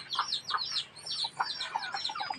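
Jungle fowl chickens cluck and chirp in a steady stream of short, bright calls, fairly close and overlapping, with no talking.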